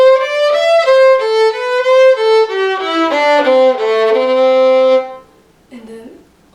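An old time fiddle tune, Old Melinda, played slowly as a single melodic line of bowed notes for about five seconds, then a brief pause and one short extra note.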